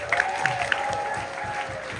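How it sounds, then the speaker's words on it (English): Audience applauding at a Blackpool weekend event, a steady wash of clapping held for the full stretch, with a few sharp claps standing out near the start and a faint tone running underneath. "Give a round of applause."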